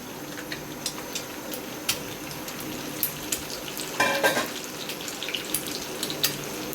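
Chopped tomatoes go into a pan of fried eggs, bringing a soft steady sizzle with scattered clicks and a brief louder splash of frying partway through.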